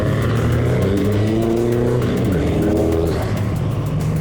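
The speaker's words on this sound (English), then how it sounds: "So they've just sent the cars to the grid for race one" Focus Cup race cars head to the grid at Donington Park, several loud engines revving and droning close by in overlapping rising and falling tones.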